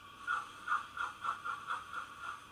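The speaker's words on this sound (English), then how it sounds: "wheel slip" Wheel slip effect from a Youchoos sound decoder in the Ince Castle model steam locomotive, played at low volume: about eight quick, evenly spaced chuffs, hissing and rattly, with no talking.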